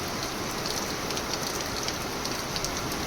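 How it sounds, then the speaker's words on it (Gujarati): Steady rain pours down in a village near Jetpur in Rajkot district, Gujarat, a dense, even hiss of drops hitting surfaces with scattered brighter patters, close and continuous with no one speaking. "આ તો વરસાદની શરૂઆત થઈ હોય એવું લાગે."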